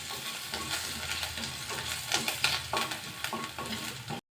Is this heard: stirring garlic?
yes